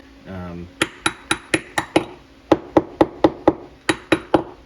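Hard plastic and nylon garage door rollers are rapped sharply in quick, evenly spaced knocks, one group of six, then a short pause and a second run of about nine, each close, crisp and loud.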